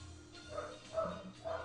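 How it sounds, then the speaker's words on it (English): A dog barking somewhere in the house, three short muffled yips in quick succession, moderately distant. "I hear one of my dogs freaking out"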